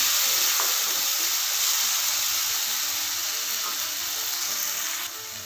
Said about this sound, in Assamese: মই আদা নহৰুৰ পেষ্ট 1 চামুচ দি দিছোঁ। ভালদৰে ভাজি ল'ম এইখিনিও।